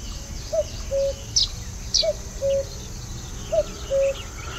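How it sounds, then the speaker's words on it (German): A cuckoo in the adventure game The Night of the Rabbit calls three times, a clean two-note cuckoo each time, evenly spaced, with brief higher bird chirps between the calls over a steady insect-like background hum. "Kuckuck. Ich höre den hier irgendwo."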